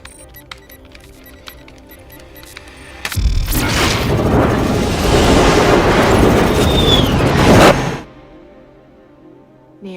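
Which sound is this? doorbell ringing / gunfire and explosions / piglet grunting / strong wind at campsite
gunfire and explosions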